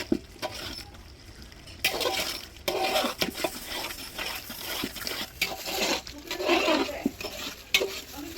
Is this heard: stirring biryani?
yes